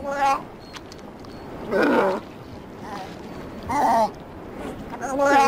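Loud, hoarse barking calls from a sea lion come in repeated bursts about two seconds apart, each a rough, throaty bellow with quiet gaps between.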